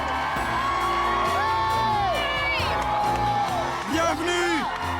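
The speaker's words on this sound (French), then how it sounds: "Il y avait tout ce monde dans notre rue qui criait et applaudissait." A big crowd packed along a residential street shouts, whoops and cheers loudly to welcome a family home, with rising and falling yells overlapping throughout.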